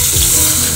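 Water pours steadily into a pot of Tamil raw-banana curry (vazhaikkai kuzhambu), a brief close splashing rush.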